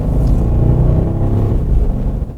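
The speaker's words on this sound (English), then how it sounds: "the V8 does have a nice throaty growl to it" A 2015 Bentley Flying Spur's V8 engine gives a loud, close, throaty growl, a steady deep rumble that swells slightly before easing off, with no talking over it.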